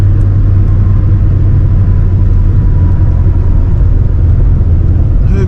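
A supercharged C6 Corvette drives along with a loud, steady, low engine drone and road rumble that fill the whole stretch, close and unbroken.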